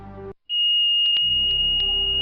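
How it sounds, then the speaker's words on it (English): A piercing, steady high-pitched alarm tone sounds loudly and continuously after a brief silence, with a few short clicks and a low hum beneath it. "Around 2:40 a.m., the smoke alarm in the back room went off."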